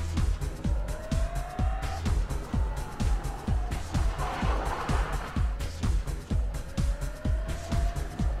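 An electric rally car slides across a Rallye du Chablais stage near Champéry, tires hissing and scrabbling over a rhythmic thumping, with a faint rising whine from the motor and no engine roar.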